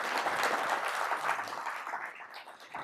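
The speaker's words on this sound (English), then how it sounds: "you can clap" Moderate applause from an audience at a regional keynote address, a soft rolling patter of clapping that gradually thins and fades toward the end.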